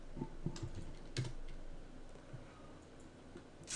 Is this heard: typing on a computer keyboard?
yes